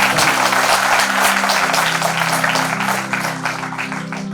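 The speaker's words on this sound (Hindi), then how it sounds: "एक बार हमारे प्रधानमंत्री साहब के लिए जोरदार तालियां" Loud, sustained audience applause for the Prime Minister at a seminar, a dense wash of clapping from a large crowd throughout with a steady hum underneath.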